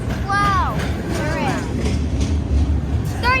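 Train rolling past near a house by a rail yard in Austell, Georgia, a loud continuous rumble with squealing wheel tones rising and falling several times.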